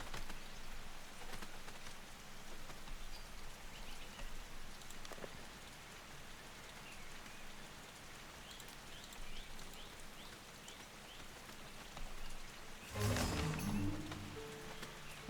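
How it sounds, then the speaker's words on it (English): Rain falls steadily in a medieval strategy video game, a soft, dense patter on surfaces throughout, with a brief louder rustling burst near the end. "And it's raining."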